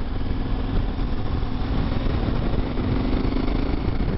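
KTM 1290 Super Adventure S motorcycle ridden in sixth gear at about 50 km/h, its engine droning steadily and loudly throughout with constant wind rush and no talking.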